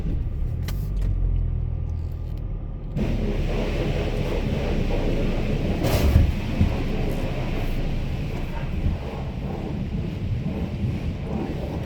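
A van sits outside an IMO automatic car wash at a Tesco forecourt in Fforestfach, its engine running as a steady low rumble that thickens after a few seconds, with a brief louder thump midway.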